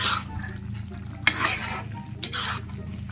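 Ground pork giniling frying in a pan as a utensil scrapes and stirs through it, with a steady sizzle underneath and two louder scraping strokes standing out.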